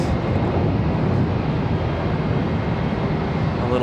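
Broadband jet roar from an American Airlines airliner departing Charlotte Douglas International for Chicago O'Hare, steady and loud throughout without a clear rise or fade, with no talk.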